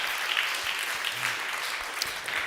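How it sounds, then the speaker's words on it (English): An audience at a recovery gathering claps together in a brief, moderately loud burst of applause, a uniform patter of many hands with no speech over it. "we can clap for that"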